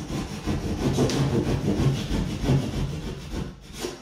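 Glass wool insulation being cut along a diagonal line, producing a close, steady run of rough rasping strokes with no talking.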